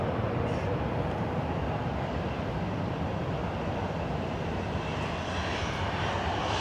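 A Ryanair jet roars past at Manchester Airport, a broad steady engine rumble holding loud throughout with no voices over it.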